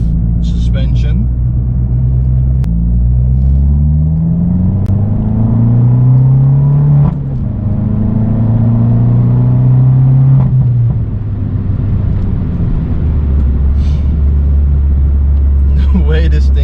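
Inside an Abarth 500C automatic convertible on the road, the engine revs up and down several times in long rising and falling sweeps, loud and close with a deep rumble beneath.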